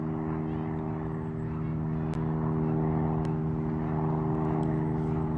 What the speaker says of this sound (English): They got the helicopter over top of me now.